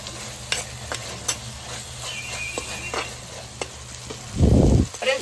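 Ginger-garlic paste fries in a pan for mutton curry while a utensil stirs it, making a constant sizzle with scattered scraping clicks, then one loud, heavy thud near the end.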